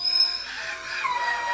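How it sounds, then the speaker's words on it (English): A dog cries and whines in a high, thin, wavering tone, faint and brief, somewhat distant indoors. "That's my dog who's crying really."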